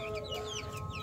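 Tiger chickens kept as backyard poultry cluck in a brief, soft burst close by, with no talk.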